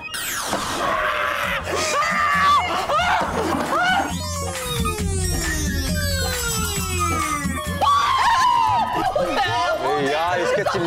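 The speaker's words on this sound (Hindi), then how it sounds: "चिल्लाने से मेरा सर फटा जा रहा है" A cartoon character lets out loud, drawn-out screams in a Hindi children's animated series, the voice rising and falling in pitch with sweeping tones, set against background music and a steady sound bed.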